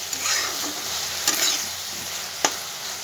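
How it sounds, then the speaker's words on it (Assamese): Small fish and spices are stirred in a frying pan with a constant close sizzle. A few sharp scrapes of the spoon break through, and there is no talking. "এতিয়া মছলাৰ লগত সকলোখিনি মিহলাই ল'ম।"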